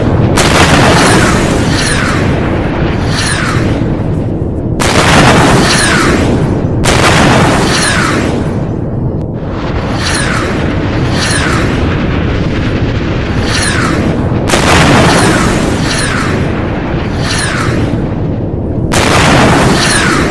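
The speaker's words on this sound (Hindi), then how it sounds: "तुर्की ने भी मिसाइल टेस्ट किया है। ये तुर्की की मिसाइल परीक्षण की तस्वीरें आप देख रहे हैं।" Turkish hypersonic missile test launch, with a loud, sustained roaring rumble that fills the whole stretch, surging in repeated bursts of blast-like noise, with no talking.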